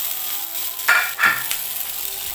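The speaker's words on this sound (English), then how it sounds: "Now you want to start stirring it again." Spaghetti frying in a pan is stirred, giving a steady broadband sizzle with two louder scraping swishes of the utensil midway, close and without talk.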